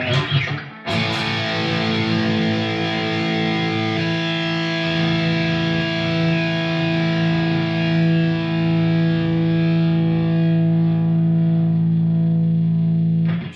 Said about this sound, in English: JCM 2203 and a dual rec, running in parallel, stereo left and right.